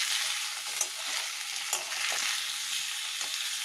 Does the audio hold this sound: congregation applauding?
no